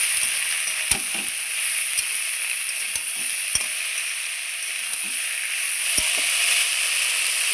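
A fish head being stirred with salt and turmeric in hot oil, giving a steady bright sizzle throughout, with occasional sharp knocks from the spoon against the pan, close and loud with no voices.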